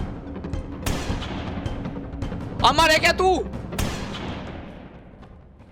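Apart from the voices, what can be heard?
shotgun shots in a video game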